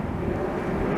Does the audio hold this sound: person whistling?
no